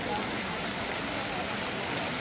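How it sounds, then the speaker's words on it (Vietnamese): Steady rain falls on a dark road, a continuous dense wash of patter with no breaks, fairly loud and close. "Đây, trời mưa."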